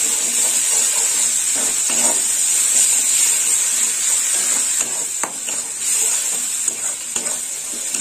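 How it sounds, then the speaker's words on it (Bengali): Poppy seed paste (posto bata) frying in a pan for tangra posto: a loud, close, steady sizzle and hiss with repeated scraping strokes of a stirring spoon and no talking. "দিয়ে দেবো পোস্ত বাটা, পুরোটাই দিয়ে দেবো। পোস্তটা একটু ভেজে নেবো।"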